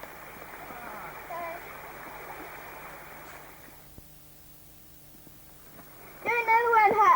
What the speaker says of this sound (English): This is a lovely little river that goes right down our house, past our house.